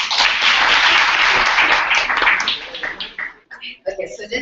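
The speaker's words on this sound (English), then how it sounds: "let's give him a round of applause" Loud applause from a crowd, dense clapping that fades out over a few seconds into scattered claps and voices.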